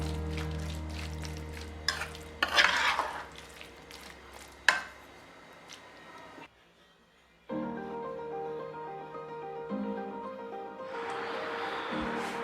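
Kashmiri chili powder and coriander powder sautéing in a pan for tomato kurma, with steady sizzling and frying, stirring scrapes and a few sharp utensil knocks, pausing briefly midway before the frying resumes.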